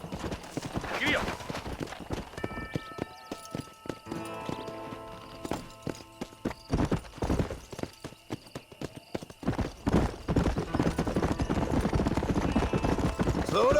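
Horse hooves galloping in the Red Dead Redemption video game, rapid clip-clop beats growing louder and denser, mixed with a neigh and spoken dialogue.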